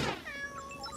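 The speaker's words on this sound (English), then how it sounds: "Kittens." Cartoon kittens from George of the Jungle mew in a quick burst of high, wavering cries, several overlapping and close, filling the whole second.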